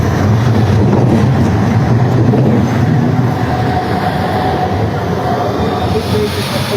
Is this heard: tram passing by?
yes